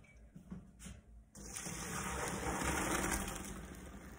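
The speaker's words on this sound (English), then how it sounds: "I just want to run it under cold water so that it's not hot when I throw all this together" Cold tap water gushes steadily over pasta being rinsed in a colander in a home kitchen, starting with a few soft clatters, then a sustained loud rushing stream that continues unbroken.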